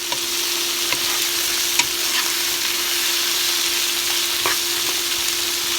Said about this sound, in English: We have to saute the veggies first.